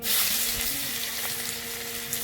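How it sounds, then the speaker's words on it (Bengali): Onion fries in hot oil with bay leaf and whole spices, giving a continuous bright sizzle and hiss, with a faint low hum in the background. "পেঁয়াজটাকে একটু ভেজে নিচ্ছি"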